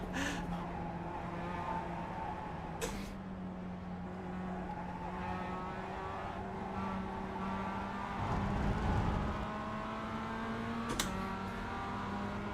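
A Mazda MX-5 race car engine drones steadily at Zandvoort in the iRacing video game, holding a sustained buzzing tone with shifting revs, a couple of sharp clicks and a brief rough surge near the end.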